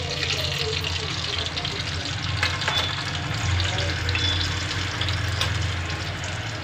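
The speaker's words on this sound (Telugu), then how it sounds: "ఒక స్పూను జీలకర్ర కూడా వేస్తున్నాను." A spoonful of cumin seeds fries in hot oil for a carrot stir-fry, giving a continuous crackling sizzle close by while someone talks over it.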